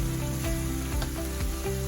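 Shrimp fries in hot oil until crispy, a steady, close sizzle with faint stirring and no speech.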